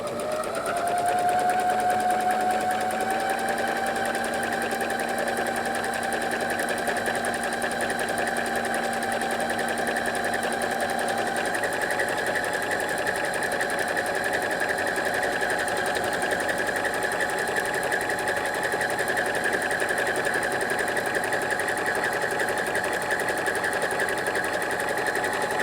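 A sewing machine stitching dress facing pieces runs in one long continuous whirring hum, close and steady, with a slight pitch shift early on and no talking.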